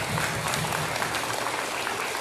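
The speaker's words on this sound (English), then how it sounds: "A round of applause for Isabella Rath." Audience at a school leadership assembly applauds a student honored as the Elks Hoop Shot champion; thick, even clapping fills the room at moderate loudness for the whole moment.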